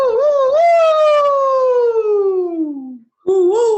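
A person's voice mimics a siren, sustaining a long wailing tone that slides slowly downward, breaks off briefly, then starts rising again, loud and close with no other sound.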